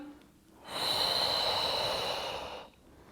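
One long, steady breath through the nose or mouth, about two seconds of airy rushing sound rising out of quiet and fading back. It is taken during a pregnancy back exercise done without equipment, with no talk over it.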